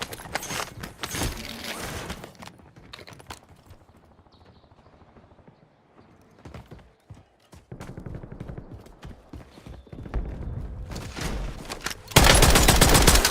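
Video game gunfire crackles in bursts of rapid shots, loud at the start and end with quieter gaps between and a heavy barrage closing out; no talk is heard.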